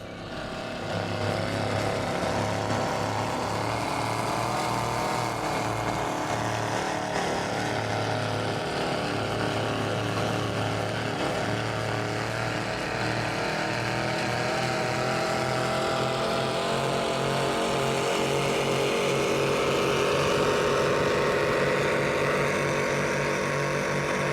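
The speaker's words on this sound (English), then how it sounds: "It's got Mercury Racing 1075s. These are the engines that give off that raw horsepower." A 38-foot Donzi ZR Comp powerboat with twin Mercury Racing 1075 engines runs at speed on Tampa Bay during a poker run, a steady loud engine drone mixed with wind and water rush, constant for the whole stretch.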